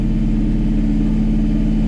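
A Kioti NS6010 compact tractor engine runs steadily at a low, even drone, loud and close throughout with no talk over it.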